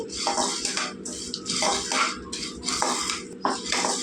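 Nuts roasting in a pan are stirred in repeated scraping strokes, about five bursts with short pauses between, close and fairly loud with no talk.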